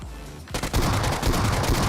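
Gunfire from a VSS rifle in the mobile battle-royale game PUBG Mobile comes as a loud, sustained rapid burst of shots. It starts after a brief quiet moment and runs steadily to the end, with no voices.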